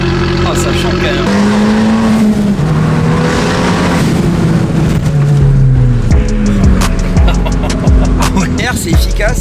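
Tuned Abarth 595 Stage 3 running loud and close, its engine and exhaust holding a steady drone that rises and falls in pitch with several revving sweeps, with speech over it.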